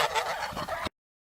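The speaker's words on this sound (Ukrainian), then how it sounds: "Гуси голосно гелгочуть." A short burst of loud, close honking and gabbling from a flock of geese, cutting off abruptly.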